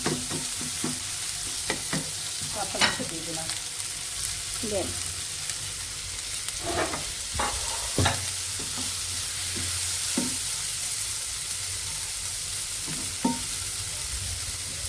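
Steady frying sizzle of potato patty filling in mustard oil in a pan, with repeated scraping and stirring clatters, close by, with occasional faint voices in the background.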